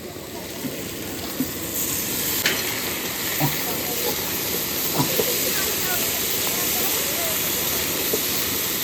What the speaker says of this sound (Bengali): মটরশুটিটা দিয়ে কষাবো এবার ফুলকপিটা দিয়ে দেবো